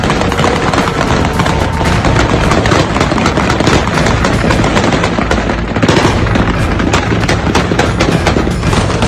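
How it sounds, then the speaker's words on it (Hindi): Gunfire in Kabul, rapid dense bursts of shots crackling continuously and loudly with no pauses, close and harsh over a noisy outdoor background. "आज काबुल में तालिबानी नहीं पाकिस्तानी गोलियां चली हैं।"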